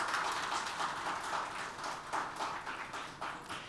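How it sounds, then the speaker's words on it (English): Audience applause at an energy summit, a steady wash of many hands clapping at moderate distance, fairly quiet and even throughout with no voices over it. "please give a warm round of applause to him"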